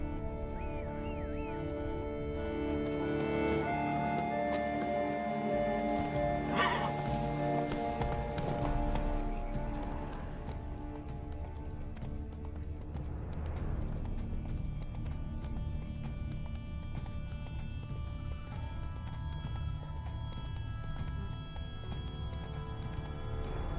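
Roach, Geralt's horse in The Witcher 3, gallops with steady clip-clopping hooves under a bed of game music and ambience, continuous and moderately loud throughout.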